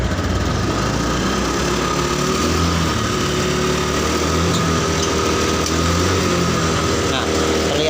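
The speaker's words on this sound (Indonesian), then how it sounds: "Coba kita gas-gas." Honda Beat fuel-injected scooter engine, still cold, revved in short bursts with a stuttering hesitation, loud and close, a steady buzzing drone that swells and falls throughout.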